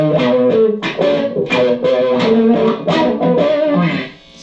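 Electric guitar played through a Dano-Wah DW-1 wah pedal with distortion on, a continuous run of loud, gritty chords and notes with sweeping wah changes, fading at the end.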